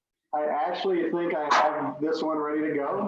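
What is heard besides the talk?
corgi barking in the background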